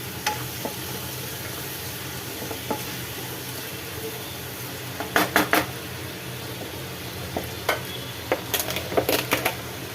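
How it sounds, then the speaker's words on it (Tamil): Tomatoes and slit green chillies sauté in a pan with a soft, steady sizzle, and a spoon clinks and scrapes against the metal in short bursts, near and fairly quiet. "ஒரு 2 பச்சை மிளகாவை கீறினதை போட்டுக்கலாம். இதையும் சேர்த்து நல்லா வதக்கிக்கலாம்."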